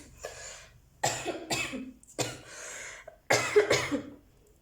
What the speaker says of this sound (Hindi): मुझे खांसी क्यों हो रही है